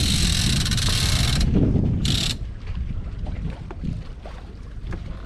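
Wind roars loudly over the microphone aboard a sailboat under a reefed mainsail, then eases into a softer rush of water and gusts with faint creaks of rigging. Nobody talks.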